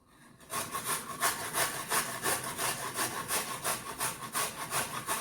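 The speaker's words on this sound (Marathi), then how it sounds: "टोमॅटो, बीट आणि गाजर असं किसून घेतलं." Onion, chili, tomato, beetroot and carrot are grated by hand, a steady close rasping scrape repeating in quick regular strokes after a brief quiet start, loud and alone.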